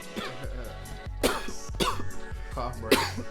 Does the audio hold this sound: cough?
yes